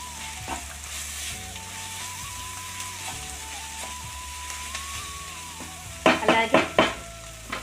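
Prawns and gongura with chili powder sizzle steadily in a pan for an Andhra-style curry, and a few sharp spatula scrapes against the metal break in near the end as the mixture is stirred.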